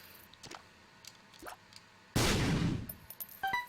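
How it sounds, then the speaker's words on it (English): A bomb explodes on a donation machine in a video game, a single loud burst that decays over about a second, followed by scattered clinks and small debris sounds against quiet background. "bombing a donation machine might be considered evil within this game's theology, but I'm doing it"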